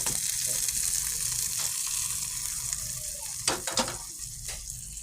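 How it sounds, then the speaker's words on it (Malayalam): Mustard seeds tempering in hot oil for a Kerala curry, a dense continuous sizzle with a few brief crackles and stirring sounds, close up. "നമ്മുടെ കറിയിലേക്ക് നമുക്ക് കടുകും കൂടി താളിക്കുക"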